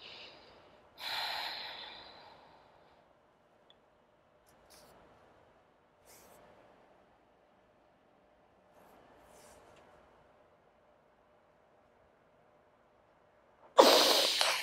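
Forceful exhale during a core-focused vinyasa yoga session: one sharp, loud rush of breath near the start and another at the very end, with a few faint, soft breaths in a quiet room between them and no talk.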